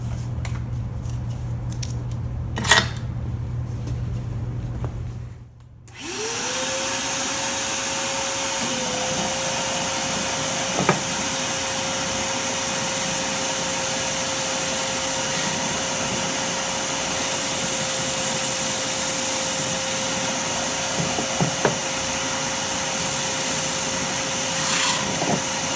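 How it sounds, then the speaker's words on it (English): A belt sander with medium-grit paper spins up after a brief quiet and runs steadily with a constant motor whine, wood pressed against the belt for a long, even stretch with occasional small knocks. "Right now, we're at the belt sander."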